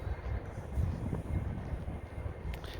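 Wind blowing on a walk through a park on a windy day, a steady low rumbling gust buffeting the microphone, moderately loud and continuous for a couple of seconds with no voices.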